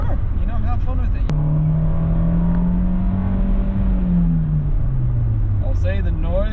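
A Fiat 124 convertible sports car engine, top down, hums and rises in pitch as it accelerates, then eases off, heard up close under wind with brief talking at both ends.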